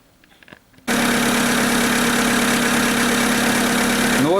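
A rebuilt 1.6-litre 4G18 engine from a Mitsubishi Lancer 9 fires up after a short quiet moment and settles into a loud, steady, even idle that runs without a break to the end.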